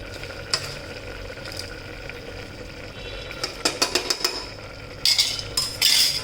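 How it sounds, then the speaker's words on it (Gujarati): Dry rice and moong dal tipped into a cooking pot of boiled potatoes and onions, heard as a cluster of close rattling, clinking pours and stirring scrapes over a steady background hiss, with brighter bursts near the end. "હવે આપણે એમાં છે ને ચોખા અને મગની દાળ નાખી દઈએ."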